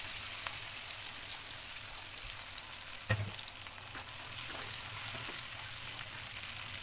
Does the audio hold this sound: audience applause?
no